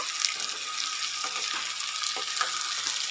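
Mutton fries in oil in a pan for a spiced mutton kosha, giving a steady loud sizzle close by with a few faint stirring knocks beneath it.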